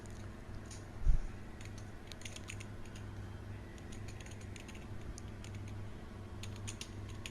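Fast typing on a computer keyboard, light clicky keystrokes in quick irregular clusters, faint against a steady low background hum, with one louder knock near the start.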